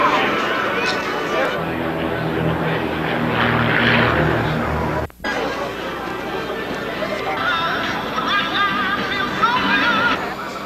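Propeller airplanes fly over a hot air balloon event with an air show at Andrews AFB near Washington, D.C., a steady loud drone of engines with crowd chatter and voices underneath, briefly cut at the midpoint.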